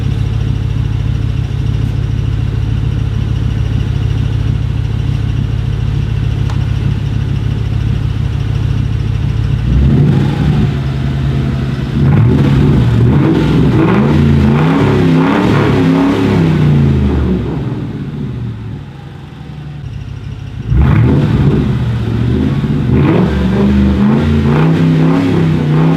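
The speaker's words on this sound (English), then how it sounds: "let's do a couple revs" A 2004 Ford Mustang GT, just jump-started after a dead battery, idles steadily up close, then revs through a few rising and falling bursts, drops back, and revs again.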